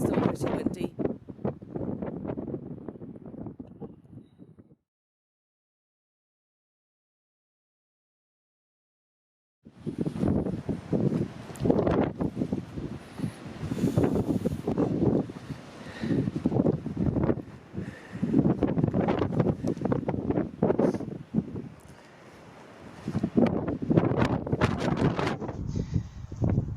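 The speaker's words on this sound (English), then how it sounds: "It's so beautiful but so windy." Strong gusty wind buffets the microphone on a mountain walk near a dam, with loud rumbling bursts, a brief silent gap, then sustained roaring gusts.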